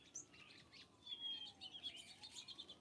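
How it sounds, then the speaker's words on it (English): Robins call in a garden in a sparse series of thin, high chirps and whistled notes, faint and fairly distant, with a soft background hum and no talk. "I can't believe how many robins we have right now."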